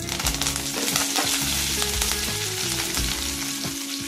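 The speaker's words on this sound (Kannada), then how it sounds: "ಅರ್ಧ ಸ್ಪೂನ್ ಜೀರಿಗೆ। ನೋಡಿ, ಇದು ಸ್ವಲ್ಪ ಚಟಪಟ ಅಂತ ಸಿಡಿಬೇಕು" Half a spoon of cumin seeds spluttering in hot oil for a festival chickpea usli crackle and pop continuously and loudly, with a low tonal background underneath.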